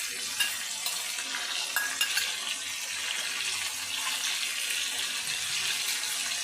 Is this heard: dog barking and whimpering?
no